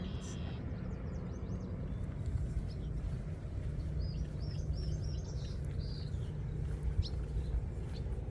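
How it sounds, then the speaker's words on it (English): Birds by a lake give faint, scattered chirps and short calls over a steady outdoor rumble, with a few brief bursts across the stretch. "Oh, so many lovely birds."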